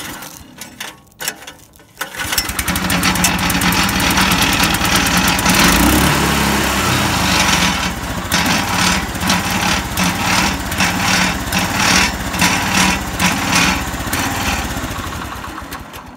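Slit seeder's small gas engine pulled to a start by rope, a short quiet stretch and rattle of the pull, then the engine catches and roars loudly, settling into a steady, slightly uneven running drone close by.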